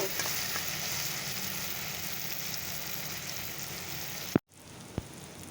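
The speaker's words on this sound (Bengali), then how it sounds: "পেঁয়াজ আর টমেটোকে ভালো করে চলো ভেজে নিই" Onion and tomato fry in a pan with a dense, even crackling sizzle up close, then a sharp knock and a brief drop before the frying resumes; no one speaks.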